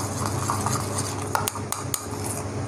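Homemade pizza sauce is stirred in a pot, with a spoon scraping and clinking against the sides in a few short taps over a steady low background hum.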